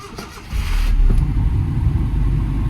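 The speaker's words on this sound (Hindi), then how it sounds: "ये है होंडा सिटी 2003 मॉडल स्टार्टअप।" A 2003 Honda City, a first-generation sedan, cranks briefly and its engine catches, then settles into a steady, loud, low idle that runs on close by.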